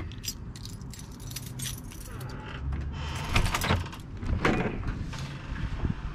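Keys jangle and rattle while unlocking the secure front door of a block of flats, with metallic clinks and scrapes of the lock over several seconds, close and moderately loud.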